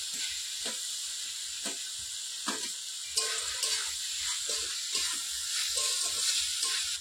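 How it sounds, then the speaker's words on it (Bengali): Chopped tomato dropped into a hot pan for a homemade chicken curry cooked over a wood fire, giving a steady close sizzle and hiss with occasional sharper crackles and pops throughout. "এবার আমি দিয়ে দিচ্ছি টমেটো কুচি।"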